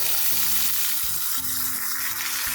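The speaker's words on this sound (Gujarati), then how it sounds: "હવે આ બધું આપણે સાતળી લઈએ કાંદા ગુલાબી થાય ત્યાં સુધી આપણે એને સાતળવાનું છે" Chopped garlic, onion and tomato sauté in a hot pan with a dense, continuous sizzle, loud and close, while a utensil scrapes and stirs in short bursts; no speech.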